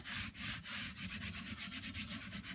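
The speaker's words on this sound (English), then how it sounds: "I'm scrubbing my hand on this" A hand scrubbing back and forth over a dried semi-permanent chalk paste design on a surface, a steady rough rubbing with rhythmic strokes, close and continuous with no talk.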